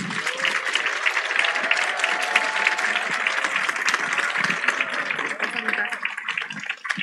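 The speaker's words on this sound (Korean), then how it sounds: "여러분 큰 박수로 모시도록 하겠습니다" An audience at a Korean business rally claps to welcome a Taiwanese Synergy Eagles executive to the stage. The applause is sustained and moderately loud, with voices and a tonal sound running beneath it, and it thins slightly near the end.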